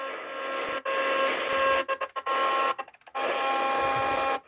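Loud, steady radio static hiss from a shortwave radio on a donut loop antenna, broken by several brief dropouts and crackling interruptions before the noise resumes.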